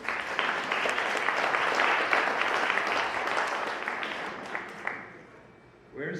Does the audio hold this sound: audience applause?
yes